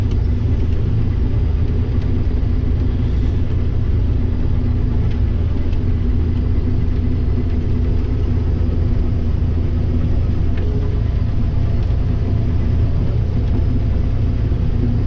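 John Deere 8320 tractor engine working hard while pushing dirt, a steady loud low rumble that holds unbroken throughout with no voices.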